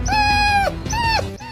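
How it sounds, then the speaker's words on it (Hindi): A dog during Holi gives two long, high, wavering whines or howls in quick succession, loud and close, the second cry slightly shorter and trailing off. "ओए भैया इस कुत्ते के ऊपर रंग मत डालो"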